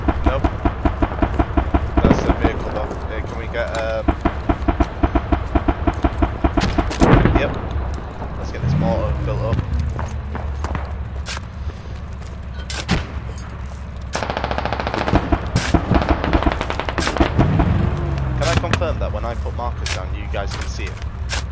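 Rapid bursts of automatic gunfire and single shots rattle almost continuously through a firefight in the military shooter game Squad, loud and close, with voices talking over the shooting.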